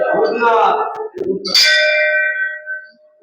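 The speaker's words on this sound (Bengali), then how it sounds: "ঘন্টা বাজাও" A temple bell at the Puri temple is struck once, close and loud, its clear metallic tone ringing on and slowly fading after a brief stretch of talk.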